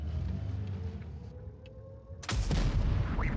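A tank cannon fires a shell in World of Tanks Blitz, a sudden loud boom that bursts in partway through over a low rumbling game background, with no talk.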